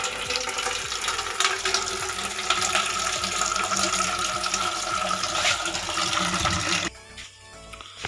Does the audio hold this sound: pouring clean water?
yes